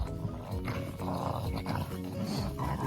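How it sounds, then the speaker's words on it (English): Farm dogs play rough outdoors, giving off continuous close, loud growling and snarling with no pauses. "the dogs are playing pretty rough here"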